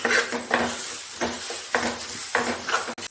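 Egg poured into hot masala in a pan for Malayali-style egg bhurji, with steady sizzling and a spoon scraping and clinking against the pan in repeated stirring strokes, close and fairly loud, with no talk.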